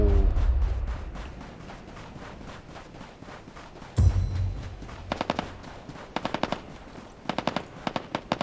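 Automatic gunfire in the shooter game Ring of Elysium, with a heavy thump opening, then rapid bursts of close rattling shots in quick clusters, repeating several times toward the end.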